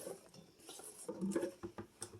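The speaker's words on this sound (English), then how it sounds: "dump the potatoes right on in" Sliced potatoes tumble into a cast-iron Dutch oven with a clattering, pattering rush of pieces hitting the pot, fairly close and moderately loud, alone without talk.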